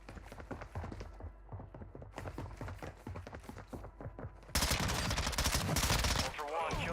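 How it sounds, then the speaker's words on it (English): Gunfire in the Call of Duty game DMZ, a rapid series of sharp shots repeating at a steady clip, with a loud, dense burst of fire near the end. "All right, so we've got shooting."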